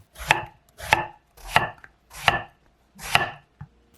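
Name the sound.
knife chopping eggplant into rounds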